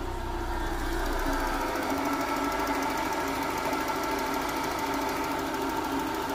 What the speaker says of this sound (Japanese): 果たしてちょっとねエンジンかけてみましょう。